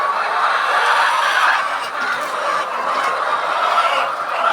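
Dense, continuous chatter of many hens clucking and squawking inside an egg-laying poultry farm shed, a steady crowded din close by with no clear voices.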